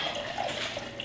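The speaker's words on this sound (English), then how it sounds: "So I'm going to go get some water." Water runs steadily from a tap into a container for a brief moment, a continuous hissing splash with no voices.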